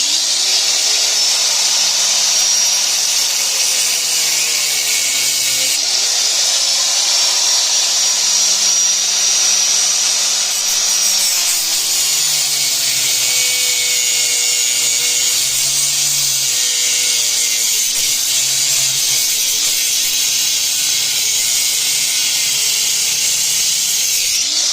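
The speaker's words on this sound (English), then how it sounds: "I've got my little angle grinder, cutoff wheel, death wheel" A small angle grinder with a cutoff wheel cuts metal during a vehicle suspension upgrade, giving a loud, steady, close hiss and whine that holds for the whole stretch, with slight shifts in pitch as the cut goes on.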